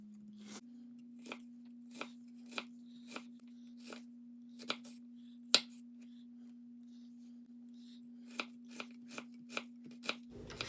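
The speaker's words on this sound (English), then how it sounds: "the rest of this ginger root we're going to cut into matchstick slices" A knife cuts ginger root into thin matchstick slices, giving sharp, separate taps at an uneven pace, some in quick clusters, against a quiet background with a low steady hum.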